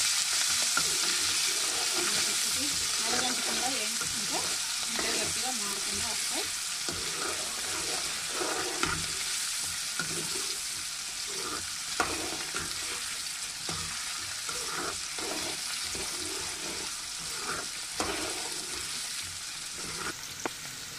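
Bitter gourd pieces fry in a pan for a long stretch, a steady bright sizzle broken by irregular scrapes and clinks of stirring, close and continuous with no voices.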